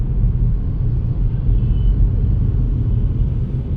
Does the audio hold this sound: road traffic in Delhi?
yes